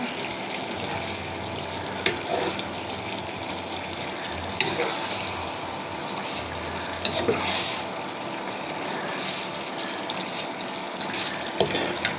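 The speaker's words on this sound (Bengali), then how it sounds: "এবারে নাড়াচাড়া করে দিব।" Broccoli, capsicum and chicken stirred in a frying pan, a steady low sizzle with occasional spatula scrapes and taps against the pan every few seconds.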